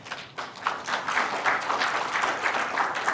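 Applause fills a ceremony hall marking a journalists' association newspaper's 2000th issue as honored guests stand up, a steady crowd clapping sustained for about three seconds at moderate volume.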